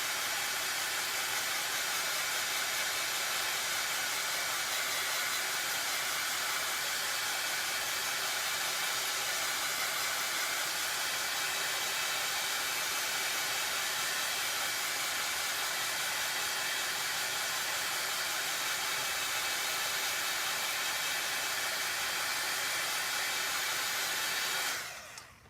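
A hair dryer blows in one long, loud, unbroken whoosh as it dries a wet craft project built from Dollar Tree pieces, running steadily close by and cutting off right at the end, with no voices.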